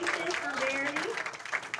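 Brief, steady applause from spectators at a professional women's bowling event honouring a bowler, sitting beneath a prominent voice that talks over it.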